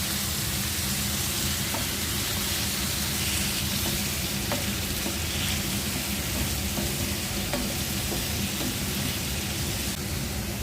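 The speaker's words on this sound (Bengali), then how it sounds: "পেঁয়াজটা হালকা ভেজে নিলাম এখন গরম মশলা দিয়ে দিচ্ছি দিয়ে দিচ্ছি দুটো কাঁচামরিচ" Onion sizzling in hot oil in a pan with garam masala and green chillies added, a steady dense frying hiss with faint stirring clicks throughout, no voices.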